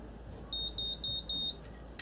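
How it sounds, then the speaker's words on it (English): A Babyliss Curl Secret hair curler gives four short, evenly spaced high-pitched beeps over a low background hum. "So it will beep four times slowly, and then it will beep four times rapidly"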